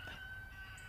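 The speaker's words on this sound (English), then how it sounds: "the roosters were crowing" A rooster crows briefly and faintly in the distance at an RV park beside the woods, over a low hum of background traffic, with no voices.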